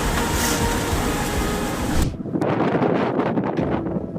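Heavy wind during a Boeing 737 crosswind landing, loud roaring wind buffeting the microphone throughout, a broad rushing hiss that drops away halfway into rougher gusty rumbling.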